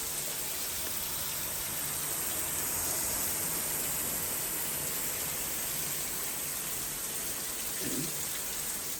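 A Cobbe high-pressure shower head with nine spray modes runs on its seventh setting, giving a steady, even hiss of spraying water that holds level for the whole stretch, close and alone.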